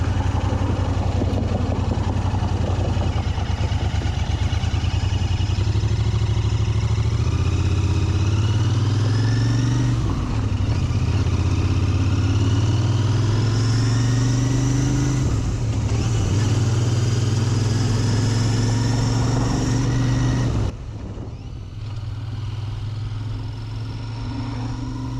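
A Royal Enfield Interceptor motorcycle being ridden, its loud engine close and steady while revs climb and drop through several gear shifts, then an abrupt fall in engine level near the end. No voices.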